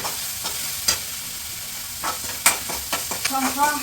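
Ginger garlic paste sautéing in a hot pan, soft continuous sizzle broken by sharp intermittent scrapes and clinks of a spoon stirring, close and fairly loud.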